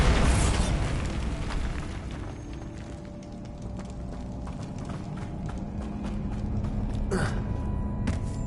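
A Bombarda explosion spell in the video game Hogwarts Legacy, a loud blast at the opening that decays into a rumbling, crackling tail, followed by scattered thumps and a sharp burst near the end.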